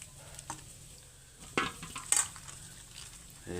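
Cauliflower and potatoes frying in a pan on a stove, a faint sizzle broken by scattered clinks of a spatula and utensils against the pan, fairly quiet and close.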